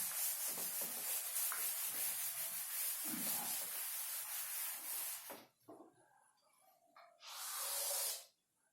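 A drawing is rubbed out on a board in a classroom, a close, continuous scrubbing sound lasting several seconds, then a pause and one more short burst of rubbing.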